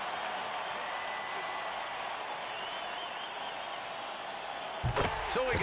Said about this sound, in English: The crowd is on their feet.